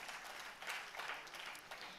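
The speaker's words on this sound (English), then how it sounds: "Another round of applause for them." Audience applause at a conference, steady clapping from a crowd lasting the full moment with slight swells, moderately distant and without voices.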